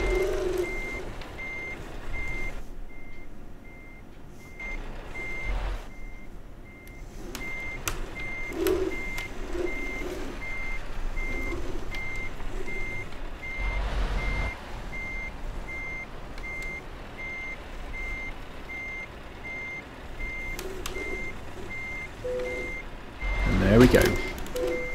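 In a trucking simulation game, a truck backs up with steady, evenly spaced reversing beeps that carry through the whole stretch, under engine rumble and someone talking.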